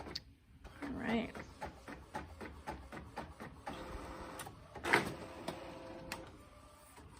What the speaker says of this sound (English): so now we just printed out our transparency